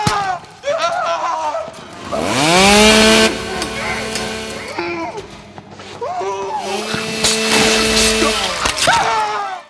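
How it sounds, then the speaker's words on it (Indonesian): A loud chainsaw roars in two long bursts, its whining pitch sliding up and down as it bites, with a brief lull between them. "Dengan gergaji mesin, dia memotong dua jari milik Paxton."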